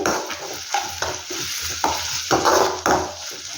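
Onions stirred in a pan for a North Karnataka green gram palya make a run of irregular scraping strokes over a soft frying sizzle, close and moderately loud, with no talking.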